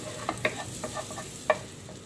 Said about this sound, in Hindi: बटर को मेल्ट होने देंगे।